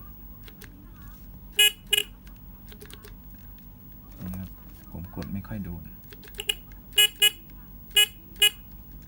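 A Honda Nova motorcycle horn, wired through a Honeywell switch, gives several short separate toots, two early and a quick cluster near the end, over a low idling hum, with someone talking between them.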